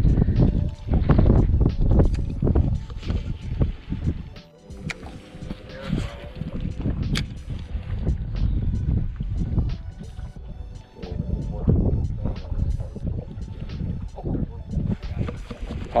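Strong gusts buffet the microphone out on the water during a crappie fishing trip, coming as heavy, uneven rumbling bursts alongside knocks from the boat.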